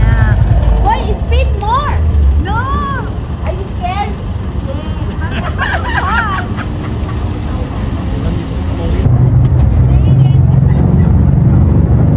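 A car engine droning from inside the moving vehicle, a steady low rumble throughout that swells louder near the end, with people talking over it.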